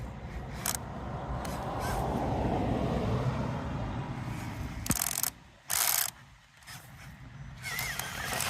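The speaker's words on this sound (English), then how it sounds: "I have finally cooked my stock servo" A stock servo on an RC crawler strains and grinds as it is pushed to its limit, giving a continuous close mechanical ratcheting whir broken by a few sharp bursts.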